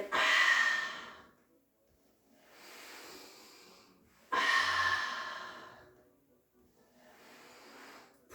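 Slow breaths during a mat pilates workout: two louder airy inhales or exhales alternate with softer ones in an even rhythm, close and alone with no talk.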